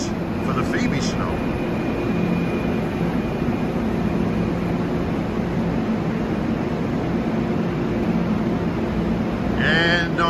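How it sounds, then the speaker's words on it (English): A Metro North holiday train rolls steadily past, a former Erie Lackawanna observation car from the Phoebe Snow among its cars, giving a continuous loud rumble with a faint horn-like tone and brief higher squeals at the start and end. "here's another one of those former Erie Lackawanna observation cars for the Phoebe Snow"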